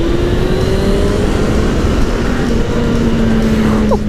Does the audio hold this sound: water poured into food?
no